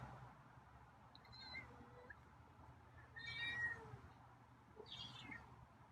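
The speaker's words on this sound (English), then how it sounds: "got a few meows" A cat gives a few faint meows, spaced apart over quiet background noise.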